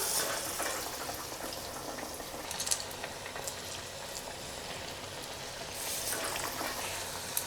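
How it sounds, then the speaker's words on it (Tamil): Lentil vadai fry in hot oil with a soft, steady bubbling crackle, faint and continuous, with a few brief louder spatters. "ஒரு உருண்டை வச்சு ஒரு ப்ரெஸ் பண்ணுங்க போதும். எடுத்து அப்படியே எண்ணெயில் போட்டுடலாம்."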